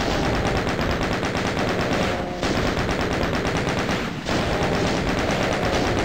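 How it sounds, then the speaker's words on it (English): Chain gun firing nonstop in a video game, a loud, rapid stream of shots in three long bursts with two brief breaks between them. "So we shall just chain gun these guys to death, I guess."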